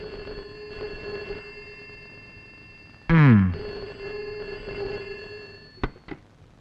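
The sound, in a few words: telephone ringing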